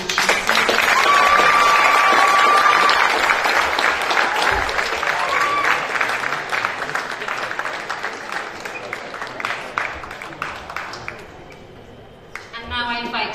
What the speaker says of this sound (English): So let's give a generous round of applause for Joanne.